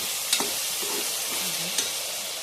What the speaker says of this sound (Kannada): ಫ್ರೈ ಆಗಿ ನೋಡಿ ಟೊಮೊಟೊ ಎಲ್ಲ ಫ್ರೈ ಆಗಿದೆ.